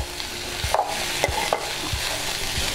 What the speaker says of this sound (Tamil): இப்போ இந்த தக்காளியும் போட்டு எல்லாம் ஒரு 2 நிமிஷம் கொஞ்சம் காய் வதங்கணும்